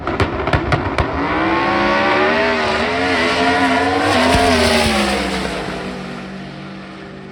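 Ford Mustang and Chevrolet Bel Air drag racing at Sick Week, with sharp crackling pops at launch followed by a long, loud, rising engine roar that slowly fades as the cars pull away.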